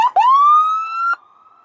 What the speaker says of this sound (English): there's the Whalen marine grade siren